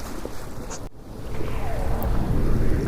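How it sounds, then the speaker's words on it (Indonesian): Strong wind blowing at sea, a loud rushing roar on the microphone that builds after a brief dropout, with surging water beneath and no voices. "Angin kencang mulai bertiup."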